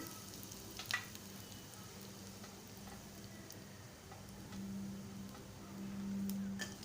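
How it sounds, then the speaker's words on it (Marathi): Mustard seeds and asafoetida in hot oil give off a faint, steady sizzle throughout, with a few small pops, quiet and without talking, while a Malvani-style tempering is made for colocasia leaf gathiya. "आता मी मोहरी घालत आहे हिंग घालत आहे"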